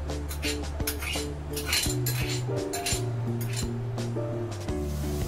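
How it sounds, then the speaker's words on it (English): Chopped onions going into a pan for veg wheat momos, with close clinks and scrapes of a utensil against metal and a soft sizzle, over steady background music. "Now we are going to add the chopped onions into it."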